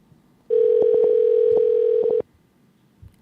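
A single steady telephone tone sounds for under two seconds during a phone call, loud and continuous, with faint clicks over it and quiet room noise before and after.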